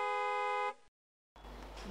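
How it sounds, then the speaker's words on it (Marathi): A car horn blares in one steady, loud honk lasting most of a second, then cuts to silence before louder street noise returns. "ते काय हॉर्न वाजवत बसतात"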